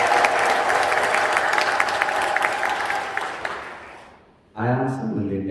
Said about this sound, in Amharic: እልል ብላችሁ አመስግኑ